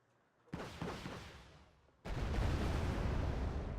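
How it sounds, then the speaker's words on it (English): Rocket and napalm strikes in a Wargame: Red Dragon battle, a sudden roaring blast that decays, then a second, louder broadband explosion that rumbles on, heavy and close, with no voices. "hit them with the rockets. We'll be able to get some casualties here. Go ahead and, while we've got them stunned, get some napalm coming down"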